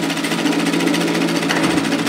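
Continuous close, loud whir of a sewing machine stitching side to side across the top of a pocket on a shacket, a steady rapid needle rhythm with no pauses or voices.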